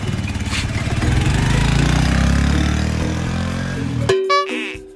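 A motorbike engine runs loudly nearby with a steady throbbing idle and a revving rise, then cuts off abruptly near the end as a short tonal beep follows.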